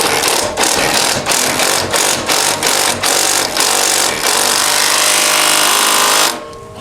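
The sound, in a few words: ratchet tightening bolts on CFMOTO CForce 600 lift kit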